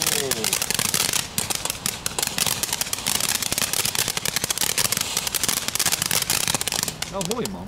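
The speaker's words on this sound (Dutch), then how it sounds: "er komen wel veel vonk af, maar ik heb toch liever knetter" A sparking firework fountain sold at Blokker throws off a dense, continuous crackling spray of sharp pops and fizzes, loud and close throughout, with a voice briefly audible near the end.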